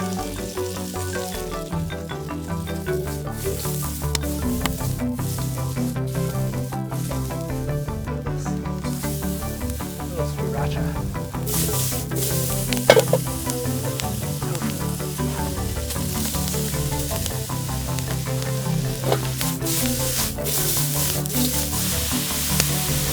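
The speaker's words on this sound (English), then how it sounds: "Super high heat is the secret to stir frying." Tofu and peas sizzle steadily in a cast iron or steel pan over a live-flame fire pit grill at very high heat, a continuous crackling fry with occasional stirring scrapes and no talking.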